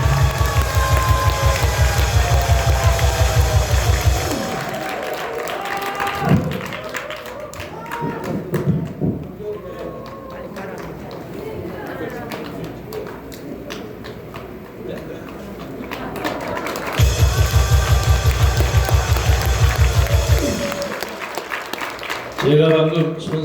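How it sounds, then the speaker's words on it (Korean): An audience applauds to welcome a speaker at a public gathering. Loud bursts of music open and close the stretch, and rougher clapping and crowd noise fill the middle, with voices mixed in. "우리 김경재 저희님을 큰 박수로 모시겠습니다"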